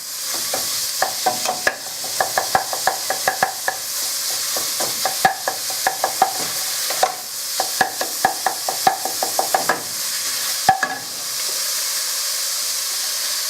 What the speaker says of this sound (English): We're going to add the minced meat in a couple of batches